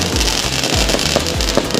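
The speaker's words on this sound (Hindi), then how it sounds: "पटाखों की आवाज़ आ रही ज़्यादा" Firecrackers burst during Diwali celebrations, several loud, close pops repeating in quick succession over a crackling, hissing background, with no voices.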